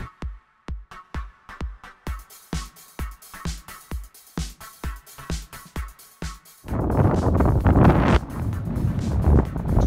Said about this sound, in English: Windy as balls.